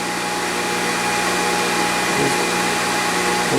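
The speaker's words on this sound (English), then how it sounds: "we'll start grinding" Grinder working a hardened riveting hammer with cool mist coolant running, a continuous loud broadband hiss and whine without pause.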